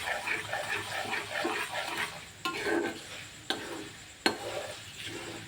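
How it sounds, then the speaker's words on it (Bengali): Spices frying in oil for a chilli achar, with a steady soft sizzle and bubbling close by, broken by a few sharp clinks of a spoon stirring against the pan, no talk. "এবার একটুখানি মশলাটা ভাজা ভাজা হয়ে যায়, একটু একটু রংটা হোক, চটপট করুক"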